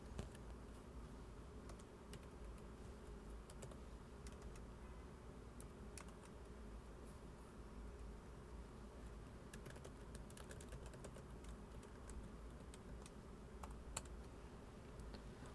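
Steady, quiet typing on a computer keyboard while entering code, a continuous patter of soft key clicks over a low background hum, with no talking.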